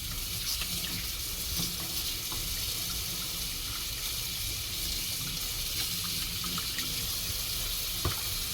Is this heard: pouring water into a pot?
yes